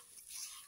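Coconut curry powder with asafoetida stirred in a hot pan, a soft continuous scraping hiss with faint sizzle, close and steady for a brief moment.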